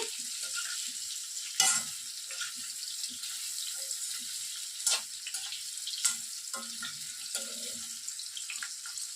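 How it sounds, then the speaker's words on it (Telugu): Boiled cauliflower florets fry in a pan in a spicy Andhra-style cauliflower dish, giving a steady, fairly quiet sizzle with occasional louder clinks and stirring scrapes. "కొద్దిగా కలర్ షేడ్ అయ్యేంత వరకు ఫ్రై చేయండి."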